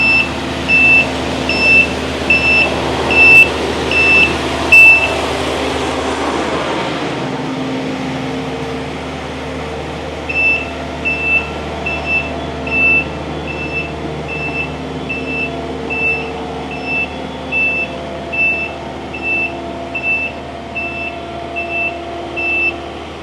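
A truck backs onto a wash rack at a ranch, its steady engine rumble under a loud, repeating backup beeper that cuts out briefly midway and then resumes.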